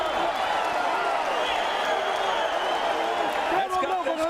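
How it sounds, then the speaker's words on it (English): A boxing crowd in Hollywood, Florida roars steadily throughout a Lorenzo versus Marquez fight, a dense sustained wall of cheering and shouting from the arena with a voice talking over it. "That's got this crowd going around."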